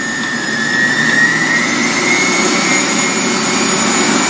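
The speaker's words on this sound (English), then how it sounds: "So we'll try it out on the highest setting just to see what it sounds like." Jettlash Uber Juicer centrifugal juicer running on its highest setting, a steady, fairly loud motor whine with a sustained high tone held throughout, no voices.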